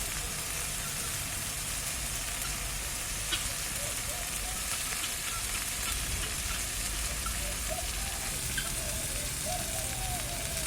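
A pan of food fries steadily on an outdoor home cooking fire, a faint, even hiss that holds without change and is joined by a few scattered soft ticks.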